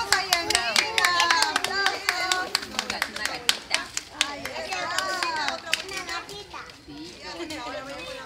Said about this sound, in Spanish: Yemina, le aplaudimos a Yemina.